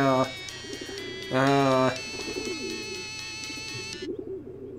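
A pigeon coos in the video game Hiveswap, a few short warbling coos amid looping game music and electronic tones, with a person talking faintly underneath.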